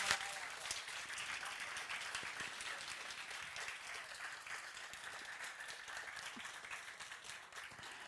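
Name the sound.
audience applause for presenting teams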